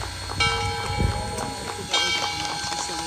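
Rumbling train noise with clattering and squealing metal, a steady low drone and bursts of clanking as a 1914 locomotive rolls along nearby.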